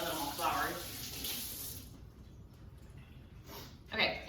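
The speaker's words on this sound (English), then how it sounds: "let me rinse my hand off now that I'm all floured" A kitchen tap runs as floured hands are rinsed, a steady splashing hiss that stops midway, then brief spurts of water resume near the end, with talking over the first part.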